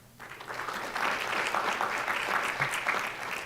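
Audience at a school board of education meeting applauding a student athlete, a moderate, fairly even round of clapping that starts abruptly and carries on without speech.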